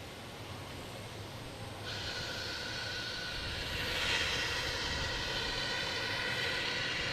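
A JetBlue jet airliner engine spins up at Logan Airport, a broad steady roar that steps up in level and then swells further, heard from some distance with no talking.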